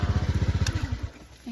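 A motorcycle engine idles close by in a steady, rapid thumping putter that fades after about a second, followed by a short rising whine.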